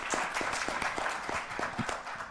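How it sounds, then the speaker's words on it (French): Conference attendees give brief applause after a panel, a short burst of fairly close, irregular clapping from a modest crowd filling the room without pause. "vous pouvez les applaudir, bien sûr."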